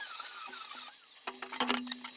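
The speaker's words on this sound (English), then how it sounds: "I'm going to grind any of these tacks or high spots on this side" Angle grinder working weld tacks and high spots on a structural steel assembly, heard in several short bursts of harsh, high-pitched whine and rasp after a quieter stretch, fairly close.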